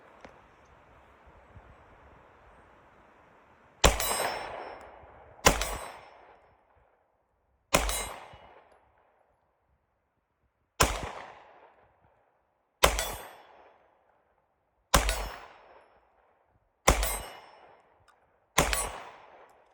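Smith & Wesson Shield EZ Performance Center pistol fired at an A-zone steel target: eight sharp, evenly spaced shots, each with a ringing clang from the steel and a quick decay, outdoors on a range.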